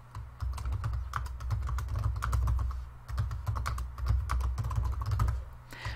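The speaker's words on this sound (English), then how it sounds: "So let me type a question here." Typing on a computer keyboard while entering a quiz question: a steady, close stream of quick key clicks in bursts, with a short pause partway through and no talk.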